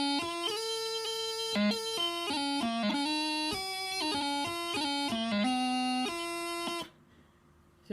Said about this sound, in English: So with grace notes, the tune would sound like this.